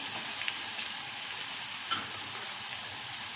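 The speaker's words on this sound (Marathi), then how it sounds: "हे पण परतून घ्यायचं आहे।" Chili, garlic and onion with spices, turmeric and salt sautéing for a traditional village-style vegetable dish, giving a steady soft sizzle with a few faint stirring scrapes, moderately quiet and close, no voices.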